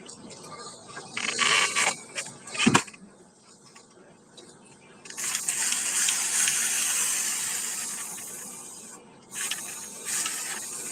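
A sprayer gives a few short bursts, then a long, steady hiss of spraying water lasting several seconds, a brief pause and another shorter spray.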